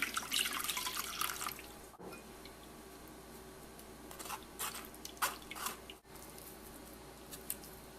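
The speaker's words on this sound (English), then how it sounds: "So let's put water right over the strainer." Water pours over a strainer of spicy paste in an Indian kitchen while making pani puri, a steady splashing patter with drips, loudest at the start, then softer trickling with brief splashes, no talking.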